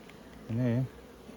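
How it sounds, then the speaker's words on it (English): A single honeybee buzzes briefly close by in an open hive of young bees, a short droning hum that rises and fades within half a second against quiet background. "There's loads of lovely young bees that have just hatched."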